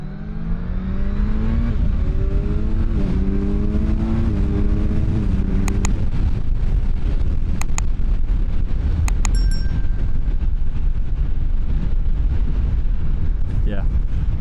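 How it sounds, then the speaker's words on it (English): A Kawasaki Ninja 1100SX sport tourer motorcycle accelerates through several gears, its rising engine note stepping up between shifts under heavy wind rush, with a rider talking over it. "And now I'm testing the Ninja 1100 SX, which is a sport tourer"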